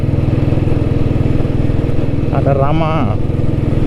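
A vintage Royal Enfield Bullet motorcycle engine thumps steadily at a low, even rhythm while the bike is ridden, loud and close throughout, with someone briefly speaking over it.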